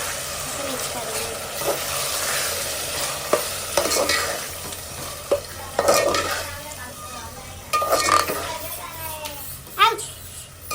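Chicken frying in oil in a home pan as yogurt is stirred in, a steady sizzle with repeated scraping and clinks of a spoon against the pan, a voice talking now and then.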